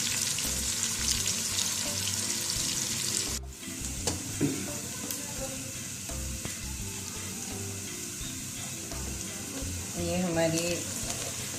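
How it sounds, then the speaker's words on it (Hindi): Onions frying in oil for a pulao, a steady sizzle that runs the whole way with some stirring, under brief talk near the end. "प्याज कुक हो रही है, एक लाइट इसको कलर आना स्टार्ट हो गया है"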